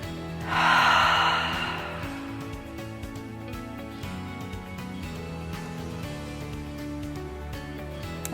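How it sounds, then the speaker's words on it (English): A deep inhale rushes in close and clear, then fades into a slower, softer exhale over gentle background music, part of a guided spring equinox breathing session. "Inhale, fill your body. Exhale, release."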